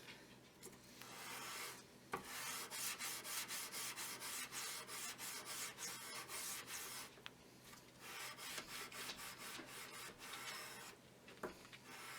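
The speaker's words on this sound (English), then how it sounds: "And then you'll sand it off and clean it up." A handmade bushcraft knife is sanded with quick back-and-forth strokes, a rhythmic raspy rubbing that runs almost continuously, fairly faint, with short breaks between passes.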